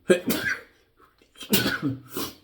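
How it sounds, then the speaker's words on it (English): Two sharp, explosive bursts of breath a second apart, a close sneeze-like expulsion, each followed by a short voiced trail. "Sneeze."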